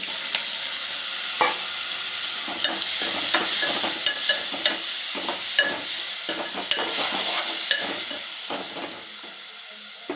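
Tomato frying in a pan with green chillies, in the making of a sprouted-fenugreek chutney: a steady, close sizzle and hiss of steam, with a scatter of stirring clicks and scrapes throughout.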